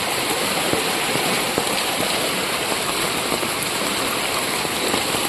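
Rain falls while floodwater flows through Vagaikulam village in Tirunelveli district, a constant close hiss of rain and rushing water at a steady level with no clear voices.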